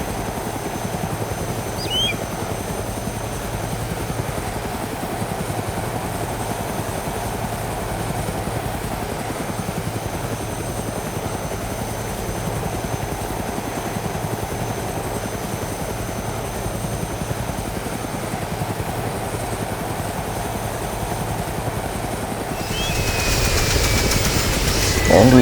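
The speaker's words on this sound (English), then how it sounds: "Ladies and gentlemen, we are starting our descent onto this chopper." A helicopter in the video game DayZ descends and lands, its rotor drone loud, steady and continuous close by, then swelling in the final seconds as it touches down.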